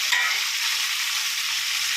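Onion and green chili are stirred into a pan of frying dried fish, giving a continuous, even sizzle up close with no talking.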